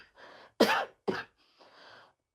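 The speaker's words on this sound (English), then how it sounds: "Don't worry about my cough." Two sharp, close coughs in quick succession, with soft breathy sounds before and after.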